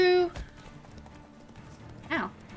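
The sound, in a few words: horse hooves in The Witcher from a video game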